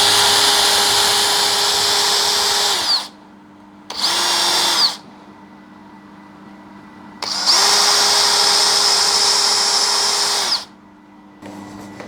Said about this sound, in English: So we're going to get the sander out.